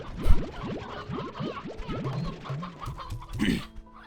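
Video-game hens cluck in a quick rhythmic series of bright clucks, then a short pause and a few scattered clucks and a squawk near the end, with no speech.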